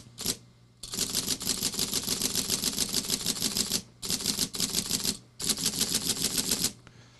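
Rapid bursts of mechanical clatter from a Juki Sierra electronic typewriter with the backspace key pressed repeatedly, three runs of fast even ticking separated by brief pauses, close and loud with no talking.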